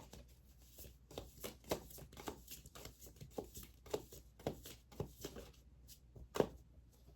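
Tarot cards shuffled and drawn by hand, a string of soft, papery riffles and flicks at an uneven rhythm, close and quiet, with faint background hum.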